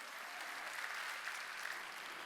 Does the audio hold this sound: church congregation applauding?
yes